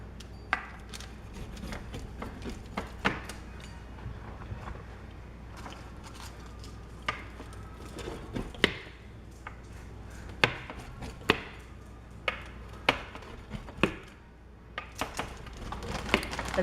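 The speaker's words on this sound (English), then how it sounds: "now that your pizza has cooled, you can go ahead and cut it in slices" A knife works through a cooled homemade pizza, slicing it into pieces, giving a series of sharp, faint cuts and taps against a board at uneven intervals over a quiet room.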